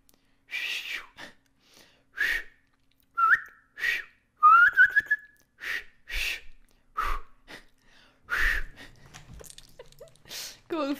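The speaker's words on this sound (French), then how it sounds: "je siffle en aspirant" A person whistles while inhaling, producing a series of short, breathy, airy whistled tones in an uneven rhythm, close up, with pauses between breaths.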